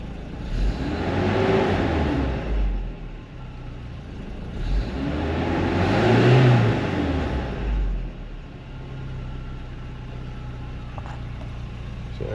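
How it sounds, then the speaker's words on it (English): A Toyota 22RE truck engine idles, then revs up twice in long swelling surges before settling back to a low steady idle. "Let it idle for a little bit and then give it a couple of revs"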